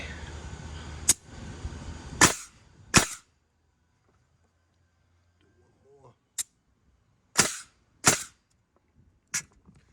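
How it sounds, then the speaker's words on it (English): A nail gun drives nails into wooden deck joists for a ground-level deck, giving sharp, loud single cracks spaced irregularly, some in quick pairs, with quiet gaps between shots and faint background noise early on. "So I'm going to hold this with one hand and shoot it with the other just to show you."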